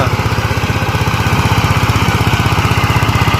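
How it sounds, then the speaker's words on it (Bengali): A tractor engine runs nearby on a rice paddy field, producing a loud, rapid, evenly pulsing diesel chug that holds steady throughout. "টেরাকট নতুন মেশিন চালানো শিখছে এই যে দেখছ"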